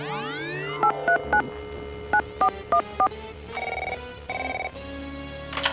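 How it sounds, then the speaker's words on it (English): A telephone dials a call with a quick series of short touch-tone beeps, then rings with two longer buzzing ring tones, clean and close like a sound effect. "Okay, now, call Amelia Earhart."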